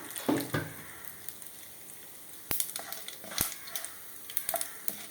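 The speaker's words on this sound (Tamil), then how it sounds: "கடுகு வெடிச்சிருச்சு உளுந்து செவந்துருச்சு" Steady sizzling of hot oil with scattered sharp pops and crackles as mustard seeds and urad dal fry in a pan, close and fairly quiet, no voices.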